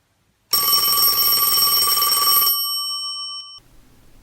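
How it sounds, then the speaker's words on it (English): An old-style telephone bell rings once in a single loud burst of about two seconds, then fades out in the quiet that follows. "the telephone rang"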